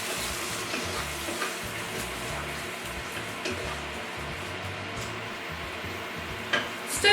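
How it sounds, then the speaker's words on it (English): Half a jar of Patak's korma curry paste being stirred through chicken in a pan over low heat, a steady soft scraping and faint sizzle running throughout, close and alone. "Stir that through and cook that on your low heat for about 5 minutes."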